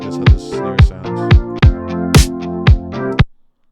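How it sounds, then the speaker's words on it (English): A snare drum sample auditioned during music production: about seven loud, evenly spaced hits, each with a sharp attack and a short ringing decay, with no talking. "I'm gonna try to see how this snare sounds."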